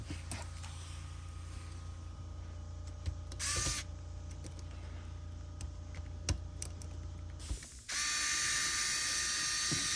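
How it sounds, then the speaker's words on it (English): Bracket screws are driven into a Xerox 78xx fuser during a rebuild: quiet, close ratcheting clicks in short bursts, followed near the end by a sudden loud steady hiss. "you have 2 screws to clamp it right in"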